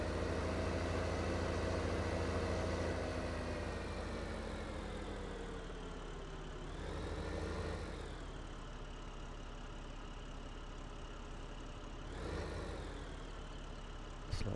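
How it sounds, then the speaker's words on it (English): A New Holland T8, a high-horsepower tractor in Farming Simulator 2015, with a steady engine idle that rises briefly twice as it revs, heard alone without talk. "I think we'll take the New Holland T8."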